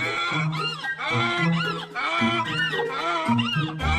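A cartoon character imitates a donkey's braying with repeated loud, rhythmic hee-haw cries from a voice, several bursts in a row, close and clear with no other talk.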